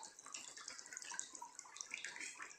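A faint, close stream of water runs into a balloon as it fills, with a thin trickling and bubbling texture and no voices.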